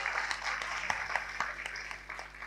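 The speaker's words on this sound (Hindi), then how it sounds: "एक बार जोरदार तालियों से आप लोग शुरुआत करें।" An audience at an Urdu poetry mushaira in Lucknow breaks into applause, a dense, moderately distant clapping that swells briefly and then thins out.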